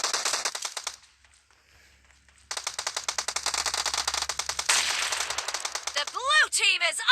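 Uzi fire in PUBG Mobile crackles in rapid, loud automatic bursts with a short pause, then more sustained firing, ending in whooshing game effects.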